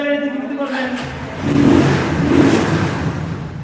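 A motorbike engine with a carburettor revs up and holds a rough, loud roar, with voices talking over it at the start.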